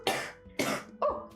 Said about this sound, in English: oh, sorry, I need to do a big cough.